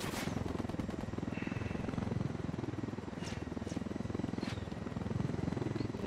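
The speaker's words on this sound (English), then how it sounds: "Yeah, the chopper has to take off." Video game helicopter rotor thudding steadily and loudly throughout, with a few brief sharp gunshot-like cracks mixed in and faint voices underneath.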